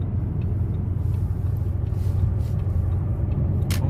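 An Audi A8 merges gently onto a road, its engine and tyres making a steady, loud low rumble from inside the cabin, with faint road noise throughout.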